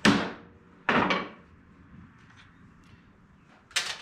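A hammer strikes a wheel stud on a 2000 Toyota Corolla, giving three sharp, loud blows: two close together at the start and a third after a quiet pause.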